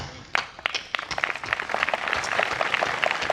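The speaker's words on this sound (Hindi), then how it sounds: "तालियां की तादाद थोड़ी ज्यादा कीजिए।" An audience at a Hindi poetry recital applauds after a poem ends: a few scattered claps at first, quickly building into sustained, dense clapping from the crowd.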